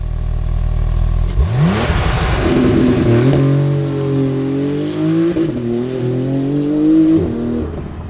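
A 700-horsepower 2018 Porsche 911 GT2 RS launches hard under launch control. The engine holds at a steady idle, then bursts into a loud, rising roar that climbs through several quick gear shifts, each with a brief dip before the pitch sweeps up again.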